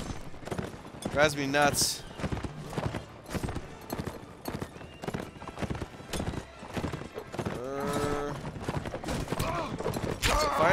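Horse hooves clip-clop at a gallop in the Mount & Blade Warband game, with whinnies and neighs breaking through, loud and close under frequent male speech.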